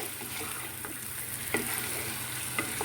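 Fried spice masala stirred into paneer in a hot pan for cheese malai paneer: a steady, even sizzle with two or three faint scraping clicks of the spoon.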